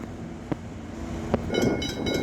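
A train approaches at Dandenong, its rumble building with a couple of sharp clanks before rising metallic tones and rolling wagon noise swell toward the end.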